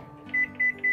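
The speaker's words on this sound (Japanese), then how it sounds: "はい、じゃあ電子レンジに入れていきます。" A microwave oven heating potatoes at 600 watts gives off a steady low hum, with three short, evenly spaced beeps sounding over it, close by.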